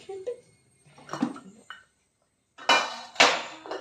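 Plates clattering in a home kitchen in the morning: a few scattered clinks and scrapes of dishes, then two louder, sharper crashes of crockery toward the end, close by with quiet gaps between.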